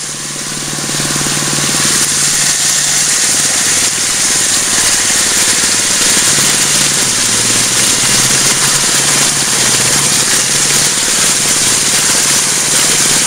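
A small gas engine drives a 1.5-inch water pump feeding a gold prospecting high banker, running as a loud, steady, close-up rattling drone throughout.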